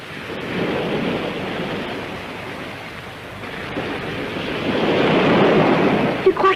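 Sea waves rolling and washing in a continuous broad rush, swelling louder toward the end, with wind buffeting the microphone and no clear speech.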